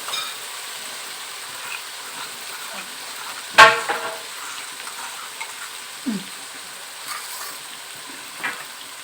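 Ginger and cumin paste dropped into a hot pan for mutton or chicken curry, a quiet steady sizzle with one sharp burst as it lands and a few soft stirring clinks.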